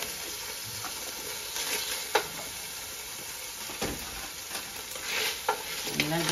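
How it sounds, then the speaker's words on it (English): Two medium diced onions sautéing in a pan toward golden brown for Hungarian goulash, giving a steady close sizzle broken by occasional stirring scrapes, with no talk. "saute the onion till it's golden brown"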